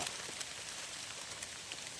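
Steady rain falls outdoors during a foraging trip for wild mushrooms in the forest, a constant soft patter of drops on foliage and ground with no voices.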